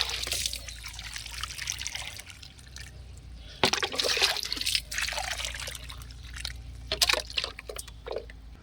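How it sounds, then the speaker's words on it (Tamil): Water poured onto potted seedlings trickles and splashes steadily into the potting soil, with pouring bursts that swell and fade over several seconds, close by. "இப்போ தண்ணி ஊற்றி விட்டுறலாம்"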